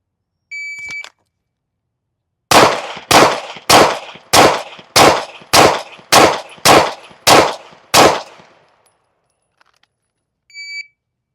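Ten pistol shots fired in a timed accuracy drill at 10 yards, sharp loud cracks spaced at an even, rapid rhythm, with a short electronic timer beep before and after the string.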